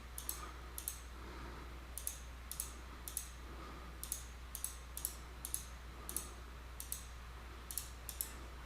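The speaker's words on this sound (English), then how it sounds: "now I'll start clicking down on the ground" A computer mouse clicks repeatedly in irregular bursts, sharp and close, some in quick doubles, over a low steady hum.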